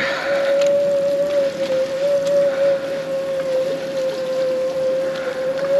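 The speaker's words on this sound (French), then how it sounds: "On entend bien le moteur qui est en peine là." A small electric motor on a Heybike EC1-ST e-bike whines at a steady high pitch, straining continuously uphill under a faint wind-like hiss, with no talking.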